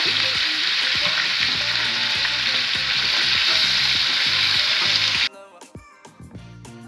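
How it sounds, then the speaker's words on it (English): Baby peas and mushrooms sautéing together in oil left from a rump steak give a loud, steady sizzle with stirring scrapes, ending abruptly into quieter pan clatter near the end. "I want to saute my baby peas and the mushrooms in the same oil."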